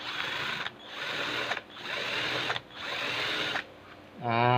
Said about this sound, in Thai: เจาะก็ค่อย ๆ เจาะลงไปนะครับ ตามจุดที่เรามาร์กไว้แล้ว